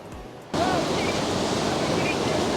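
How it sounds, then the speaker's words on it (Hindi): The Saraswati river flows at Mana village, its steady loud rush of water starting abruptly and continuing as an even, close roar. "यह सरस्वती नदी"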